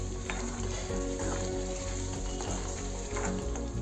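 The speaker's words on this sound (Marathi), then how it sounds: "तेल सुटेपर्यंत आपण परतून घ्यायचं" Gravy for dhaba-style aloo gobi sautéing in oil until the oil separates, a dense, even sizzle and bubble close up with occasional stirring scrapes, no talk.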